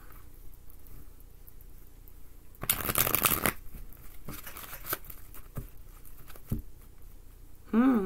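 Tarot cards are shuffled in one quick, crisp riffling burst against a quiet room, with small taps and rustles around it and a brief voice at the end.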